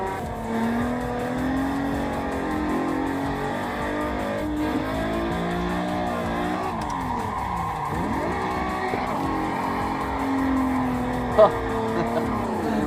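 Race car in the Assetto Corsa driving sim, engine droning steadily with rising and falling revs and a sweeping pitch dip mid-run, tires squealing in a drift, continuous and fairly loud.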